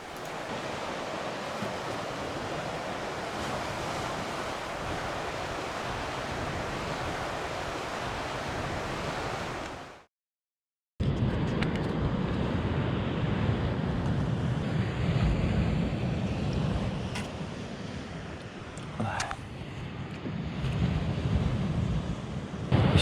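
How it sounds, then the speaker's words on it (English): Steady roar of ocean surf washing ashore, broad and continuous, cut by a brief silence midway before the crashing waves resume. "enjoying the privilege of hearing the waves crash nearby"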